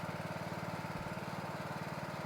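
Troy-Bilt 17.5HP, 42-inch, 8-speed lawn tractor in very good condition, its engine running at a steady idle with a dense, even throb that stays close and loud throughout.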